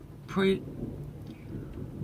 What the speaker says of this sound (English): It is still thundering here.